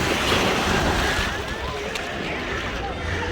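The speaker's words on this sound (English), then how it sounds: "show you this wonderful and beautiful beach." Surf at Peña Blanca beach, Puerto Rico, rushes steadily and fairly loud, with wind across the microphone and a voice talking over the waves.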